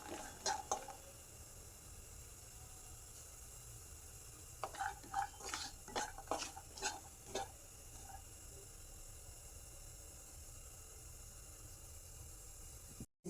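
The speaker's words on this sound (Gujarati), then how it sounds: "કાજુને આપણે ગોલ્ડન બ્રાઉન જેવા સોતે કરી લઈશું" Cashews sautéing in hot ghee in a pan for kaju curry, with soft sizzling and a run of clustered stirring scrapes and clinks in the middle, quieter frying before and after, no talk.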